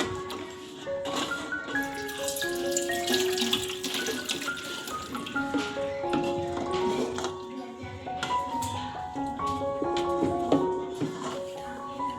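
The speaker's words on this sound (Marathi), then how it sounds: "आता हे गरम झालेलं पाणीसुद्धा मी ओतून घेते" Hot water is poured out of a cooking pot after parboiling potatoes, a steady splashing stream running under louder background music.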